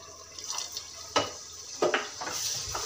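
Spoonful of water tipped into a pan of frying masala, giving a faint trickle and a few soft splashy sizzles with short clattering touches, fairly quiet against a steady background hiss.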